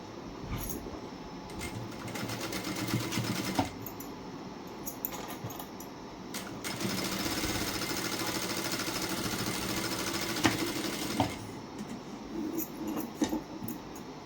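A sewing machine stitching a blouse, runs of fast, even mechanical whirring broken by short pauses, close and moderately quiet with no talking.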